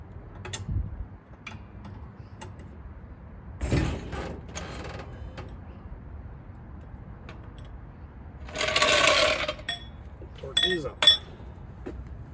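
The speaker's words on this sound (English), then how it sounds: "So I'm just gonna torque these up to 70 foot-pounds as per the instructions" A torque wrench tightens wheel bearing nuts on a 1955 Chevy, giving sparse, close metallic clicks and clinks with a few short bursts of ratcheting and tool handling against a quiet garage background.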